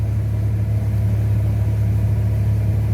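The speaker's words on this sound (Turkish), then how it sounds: "O yüzden e, traktör zorlanmadan yapıyor." A tractor engine drones steadily while powering a threshing machine, a loud, even low rumble with a constant mechanical hum and no talking.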